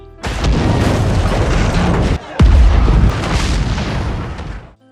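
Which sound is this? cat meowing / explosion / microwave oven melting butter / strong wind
explosion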